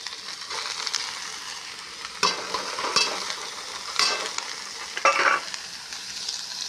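Onions frying in a pan while being stirred, a steady close sizzle broken by several sharper scraping bursts from the spoon, with no talking.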